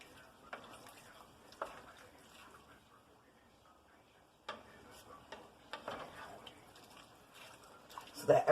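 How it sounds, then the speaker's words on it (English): Angus beef tips with mushrooms and onions are stirred in gravy in a casserole pan, giving faint, soft scraping and occasional clinks with a light simmer beneath. "We're just going to go ahead and stir this just a little bit more."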